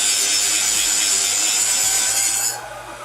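A saw cutting through a metal turbo downpipe during exhaust fabrication in a garage, a loud, steady, close-up rasping stroke that runs continuously and then eases off near the end, with no talking.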